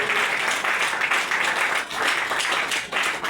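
A church congregation applauds during a morning service, a dense, steady wash of clapping filling the space for a few seconds with no speech over it.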